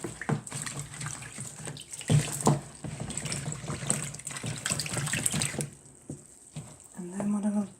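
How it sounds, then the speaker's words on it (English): Orchids rinsed under running tap water in a kitchen sink: a steady splashing stream with intermittent stronger gushes, pausing near the end, as someone talks over it. "they're in the kitchen sink now, just having a rinse off."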